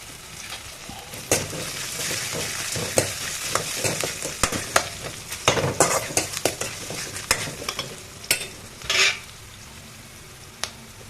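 Crushed garlic fries in oil for lemon rice, a close, moderate sizzle punctuated by sharp ladle taps and scrapes against the pan, with a brief louder burst of hissing near the end.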